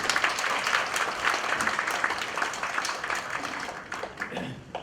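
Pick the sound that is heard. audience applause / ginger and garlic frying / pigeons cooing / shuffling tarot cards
audience applause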